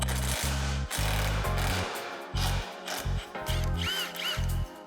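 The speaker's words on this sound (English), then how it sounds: "go ahead and remove these 2 bolts" Bolts being removed with an impact tool from the rear cage mounting point of a Polaris RZR XP 1000 while fitting a bed rack, a series of loud, close rattling bursts with brief gaps between them.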